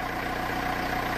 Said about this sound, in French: Vous avez entendu le moteur là?